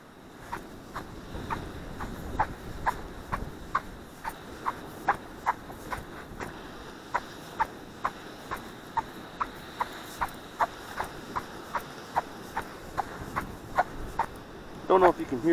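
Footsteps on silica and quartz beach sand make a steady series of short, sharp squeaks at an even walking pace, close by and fairly faint over a soft background.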